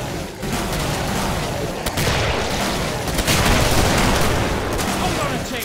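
A big gun fires repeatedly in Killing Floor on the KF-Stronghold map, dense loud blasts over a continuous din of battle, close and relentless, with talk mixed in.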